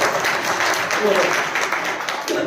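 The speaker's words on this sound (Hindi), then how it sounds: "जोरदार ताली।" Dense applause from a church prayer meeting crowd fills the space, with voices talking faintly underneath the clapping.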